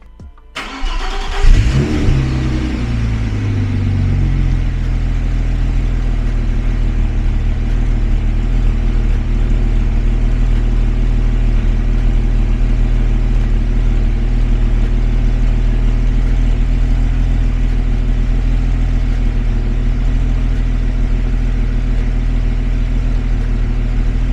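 A car engine cranks and catches after a short stutter, then settles into a loud, steady idle with a deep, even rumble that carries on unchanged.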